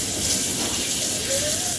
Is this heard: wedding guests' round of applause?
no